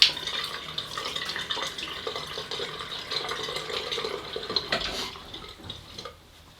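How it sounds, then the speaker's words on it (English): Running water rinses off after a straight razor shave, a steady close splash from a tap that stops about a second before the end. "Right, let's rinse off."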